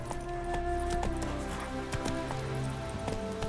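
Hoofbeats of Roach, Geralt's horse in The Witcher 3, clopping in a steady galloping rhythm at moderate distance, with faint game music and ambience underneath.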